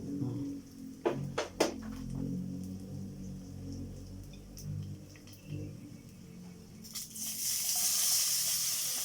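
Dried fish being washed in water in a kitchen, with running tap water, sloshing and a few sharp clinks and knocks, then a louder gush toward the end, heard fairly close.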